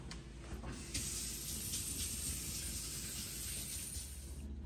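Hands are washed under a running kitchen tap, giving a steady, fairly quiet hiss of flowing water that carries on unbroken, with no one talking.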